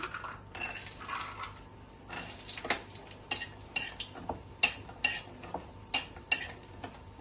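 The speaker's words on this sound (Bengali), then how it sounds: "তো কড়াতে তেলটা গরম হয়ে গেছে, তো বড়িটা আমি একটু ভেজে নিচ্ছি।" Dried lentil dumplings (bori) fry in hot oil in a wok, a soft sizzle broken by sharp metallic scrapes and clinks of a spatula against the pan in an irregular rhythm, close and fairly quiet.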